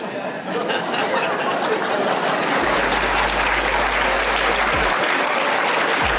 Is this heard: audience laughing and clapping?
yes